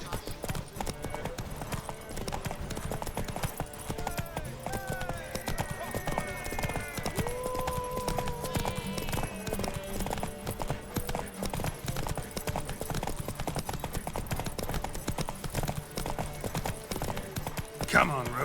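Horses gallop in a race in The Witcher 3 video game, with rapid, continuous hoofbeats and an occasional whinny under people talking throughout.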